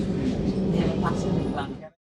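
Steady rumble and rattle of a moving train heard from inside a first-class AC coach nearing New Jalpaiguri station, continuous and close, with voices faintly mixed in before it cuts off.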